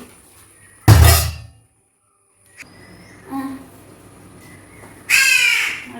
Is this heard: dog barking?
no